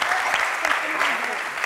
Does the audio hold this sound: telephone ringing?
no